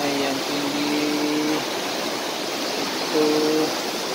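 Water of a high river flowing below a garden in Malang, East Java, a steady broad rushing wash throughout, with brief voices heard faintly over it.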